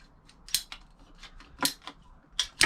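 Cutters snipping through water filter tubing, a few sharp close clicks and crunches spaced irregularly over a quiet background.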